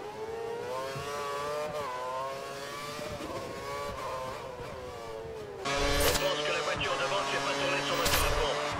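Race cars in a video game on a Hungarian circuit whine through their gears as they accelerate, a layered rising engine drone that swells louder in the second half, under steady French commentary.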